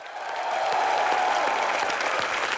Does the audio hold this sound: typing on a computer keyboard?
no